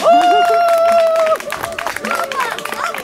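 Continuous applause from an outdoor theatre audience in Vecpauce, dense crowd clapping running throughout beneath a loud, long shouted call from a man and some chatter.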